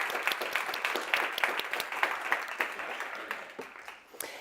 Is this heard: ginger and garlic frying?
no